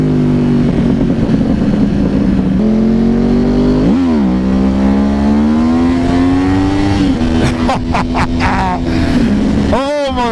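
Sportbike engine pulling hard under acceleration, pitch climbing through the gears with shifts and rising revs, loud and close, ridden by a rider who talks over it amid wind noise.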